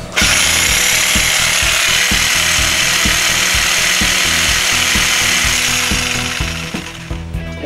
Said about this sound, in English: The sawzall is much faster after treatments.